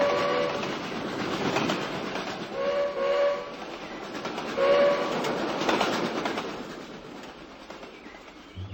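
A cartoon toy train in the animated show Gumby rolls along with steady clattering while its whistle sounds in several short toots, moderately loud and alone without talk.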